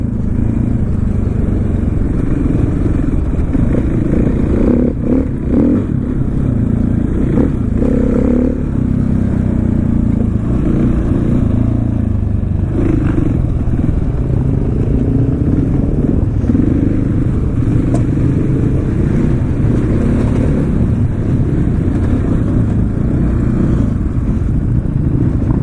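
A supermoto motorcycle ridden off-road gives a steady, loud engine drone throughout, with rough clattering and shifts in revs but no clear throttle blips.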